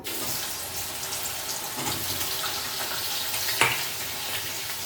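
Raw green banana slices fry in hot oil for chips, giving a dense, even sizzle that stays loud and close throughout, with one brief sharp clink near the end and no talking.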